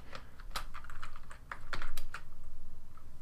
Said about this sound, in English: So I'm going to click here and start typing.